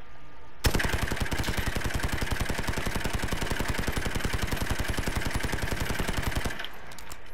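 A rapid, unbroken burst of pistol fire from a Call of Duty game runs for about six seconds at a steady, machine-like rhythm, loud and close, without any talk.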